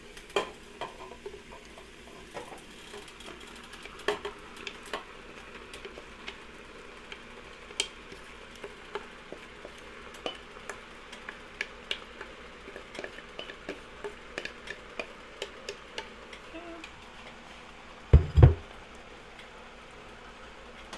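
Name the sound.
corn stirred into sautéing vegetables for corn chowder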